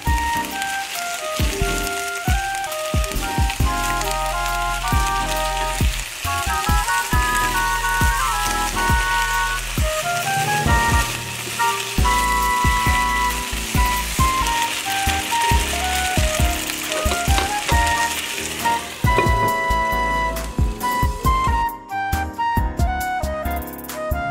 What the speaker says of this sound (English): For some Spam and potato ASMR.